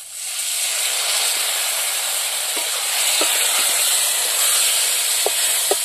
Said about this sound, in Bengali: মশলাগুলো যাতে পুড়িয়ে না লাগে তার জন্য একটু জল দিলাম।